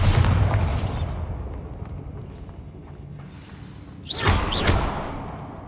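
A Bombarda spell blast in Hogwarts Legacy bursts out around the four-second mark as a loud, brief explosive burst with a crackling tail, following a dense, rumbling opening of game noise.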